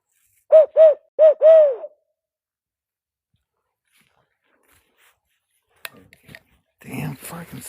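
Owl hooting at night in Larue County, Kentucky, three loud, close hoots in quick succession, then silence, followed by faint rustling and a voice at the end.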